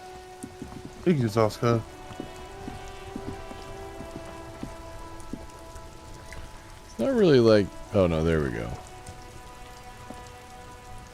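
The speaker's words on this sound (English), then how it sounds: "It's raining again." Steady rain falling across the streets of the video game Disco Elysium, a soft continuous hiss under the whole stretch while people talk briefly twice.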